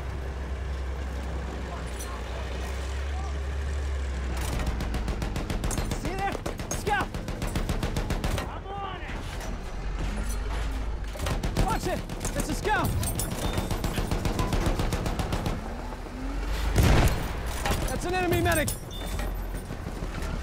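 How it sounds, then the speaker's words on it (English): Machine gun fire in the World War I shooter Battlefield 1, with rapid bursts and scattered gunshots amid vehicle rumble and battle noise, under continuous talk throughout. "That's an enemy machine gun!"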